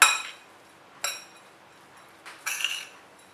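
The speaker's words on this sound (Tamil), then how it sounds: "இப்போ எல்லாத்தையும் நல்லா கலந்து விட்டுக்க போகிறேன்." A spoon clinks against a bowl while spices, garam masala and salt are mixed into a potato-and-egg mixture: three sparse, bright metallic taps, with near silence between them.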